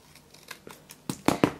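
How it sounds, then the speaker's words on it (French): Scissors trim the excess paper from a handmade card, starting with faint snips and ending in three sharp, close cuts, with no talking. "je vais découper l'excédent"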